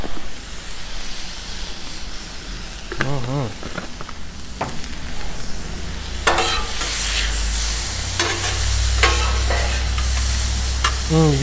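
A steak fries on a 36-inch Blackstone griddle with butter and onions, giving a steady close sizzle with bursts of hissing steam and scraping stirs, and brief voices in the background.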